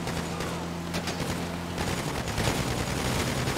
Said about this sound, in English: I thought you guys were shooting through the back.